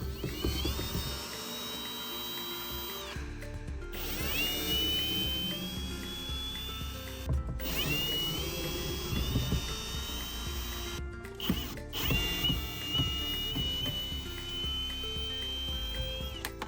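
A power drill or driver whines through repeated bursts of rising pitch while removing the top screws of a wood burning stove in a camper, with short pauses and clicks between runs.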